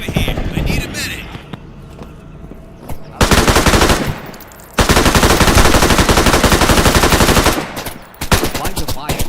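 Bursts of automatic machine gun fire in a military shooter video game, loud and close, with dense rapid rattling in long sustained volleys separated by quieter gaps with background voices.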